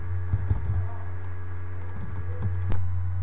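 Short bursts of keystrokes on a computer keyboard as a Linux command is typed into an Ubuntu terminal, a few clustered taps then a louder final key press, close and clear over a steady low hum.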